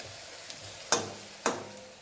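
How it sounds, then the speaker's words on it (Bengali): Onion fritters (peyaji) with coriander leaves frying in oil, a faint steady sizzle broken by two sharp clattering stirs or scrapes close by. "এখানে ভাজছি হলো পেঁয়াজি"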